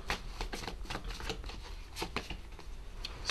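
Tarot cards are shuffled close up, giving a quick run of soft riffling flicks and slaps in an irregular rhythm, faint and alone with no talking.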